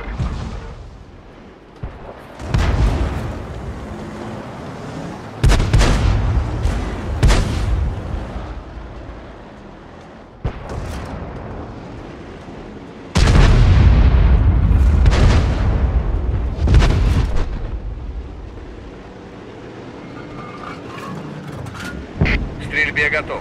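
Repeated heavy cannon blasts from an SU-122A self-propelled gun in a video game, several loud booming shots with rumbling tails spaced a few seconds apart, with voice lines heard between them.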